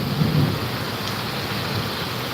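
Steady heavy rain pours down during a thunderstorm in Amreli, a dense continuous hiss with a low rumble of wind and thunder, close and loud with no voices.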